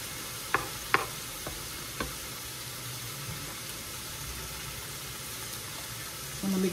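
Garlic frying until browned for pakbet, a soft steady sizzle with a few sharp utensil taps early on, fairly faint and with no talking.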